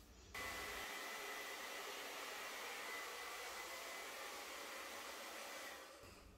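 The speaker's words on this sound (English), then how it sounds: "I'm gonna like blow dry the white off sort of and try something here" A hair dryer switches on and blows steadily across wet white paint on a 3-by-3-foot canvas, a loud, even whooshing roar that runs for several seconds before easing off near the end.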